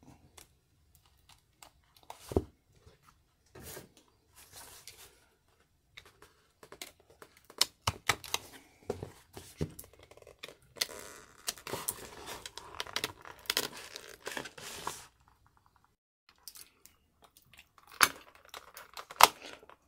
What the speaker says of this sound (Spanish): Vamos cortando todo esto.